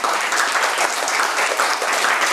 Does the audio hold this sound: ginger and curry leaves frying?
no